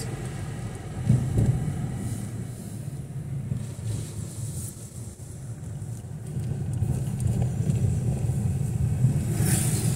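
Riding inside a truck along a coastal road in Itajaí, Brazil, the engine and road noise make a continuous low rumble with wind buffeting, swelling slightly louder in the second half.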